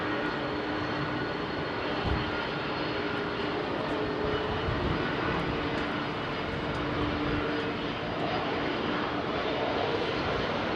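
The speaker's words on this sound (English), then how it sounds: "old school jet." An old-school jet aircraft roars steadily at London Heathrow Airport on a windy day, a continuous loud, broad engine rumble with no talking.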